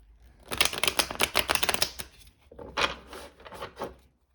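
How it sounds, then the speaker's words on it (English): A deck of tarot cards is shuffled by hand in close, crisp bursts of rapid riffling clicks, one long run followed by a shorter one. "we'll do one last shuffle"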